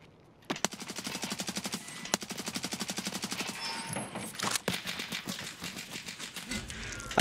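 A loud gun in Escape from Tarkov fires long rapid automatic bursts with a steady rattling rhythm, briefly broken by single sharper reports, up close and without talking over it.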